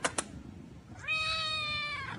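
A cat gives one clear, drawn-out meow after a couple of short sharp noises, close and fairly quiet, with no talking over it.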